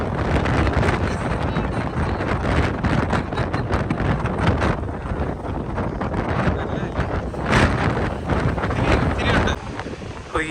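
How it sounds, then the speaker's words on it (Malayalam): Strong wind buffets the microphone in a steady, loud roar on the coastal walk to the Seven Sisters chalk cliffs, with surf and waves blending underneath for the whole stretch. "നല്ല കാറ്റുണ്ട് കേട്ടോ"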